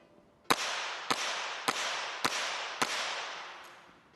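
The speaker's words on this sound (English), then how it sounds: "He needs to shoot 3 out of 5 to match Vijayvir Siddhu of India at 14." Five sharp, loud pistol shots ring out at even intervals of about half a second during a men's 25m rapid fire pistol final at an ISSF World Cup, each crack followed by a lingering echo in the range.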